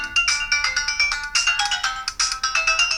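Retro Game Boy-style handheld playing bright 8-bit chiptune bleeps, a rapid run of short, high, buzzy tones in quick rhythmic bursts, close and clear with no talking.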